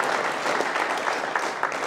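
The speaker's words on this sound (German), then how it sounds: "einen Applaus für die Kini-Jungs" Audience applause for a young Austrian circuit motorsport team at a talk event, a steady wash of clapping from a room of people, moderately loud and continuous.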